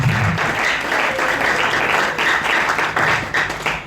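Church congregation at a Sunday anniversary service applauding together, a sustained burst of clapping lasting a few seconds, fairly loud and unbroken.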